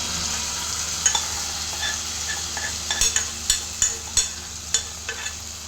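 Ripe banana and coconut pieces frying in ghee give a soft steady sizzle, with a spoon stirring and scraping against the pan in a series of clicks and taps, close and fairly quiet.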